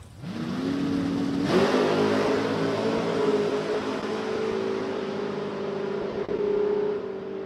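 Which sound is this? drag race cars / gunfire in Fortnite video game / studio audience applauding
drag race cars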